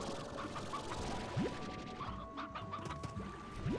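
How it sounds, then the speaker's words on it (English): A chicken in the video game Slime Rancher clucks in short bursts over a busy game soundscape, with two quick rising chirps and no talking. "I heard a chicken."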